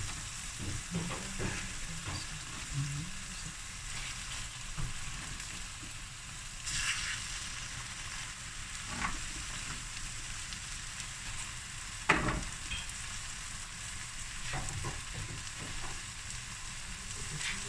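Fish heads frying in oil in a pan for a tuna curry with coconut cream: a steady, close sizzle with occasional sharp crackles and pops, no voices.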